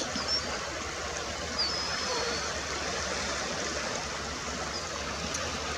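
Steady rushing water at Fletcher's Creek outlet, Silver Sands State Park, Milford, Connecticut, in winter, a constant broadband wash with faint wind, heard alone at moderate level.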